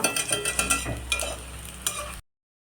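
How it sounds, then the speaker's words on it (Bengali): Vegetable fritters (bora) frying in a pan at home, a steady close sizzle with a few sharp crackles and stirring clatters before it cuts off abruptly. "চলো তো বড়াটা ভেজে নিই"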